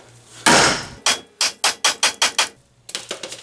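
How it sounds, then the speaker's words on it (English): A hammer strikes a rusted ball joint with sharp metallic blows: one heavy hit, then a quick run of about seven strikes and a lighter cluster of taps, close and loud. "Alright, let's give it a go with the hammer again."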